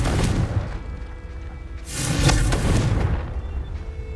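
Confringo explosive spell cast in the Hogwarts Legacy video game: a deep booming blast that rumbles on, followed by a second, louder explosion about two seconds later, loud and close, with no talking.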